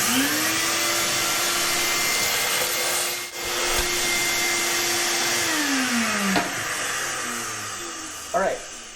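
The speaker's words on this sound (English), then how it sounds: "we'll try to get the oil pump spinning, see if I can get some oil squirting out here" Drill driver spinning the oil pump of a 1973 Saab Sonett engine that sat 37 years, a steady whirring hum that winds up, holds, then slows and stops, close by.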